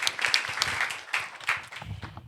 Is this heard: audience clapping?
yes